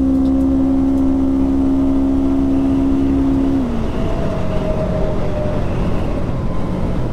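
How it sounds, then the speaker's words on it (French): A Segway Fugleman UT10 utility vehicle on a speed run, its drivetrain letting out a loud steady whine that holds and then shifts pitch as it accelerates, over constant road and wind rumble, with no one speaking. "Bon, on va tirer une petite run de vitesse."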